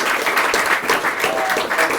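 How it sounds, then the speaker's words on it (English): A startup meetup audience applauds a speaker, a loud, steady burst of dense clapping from a room full of people, continuous and close throughout. "Please give a warm applause for Peter"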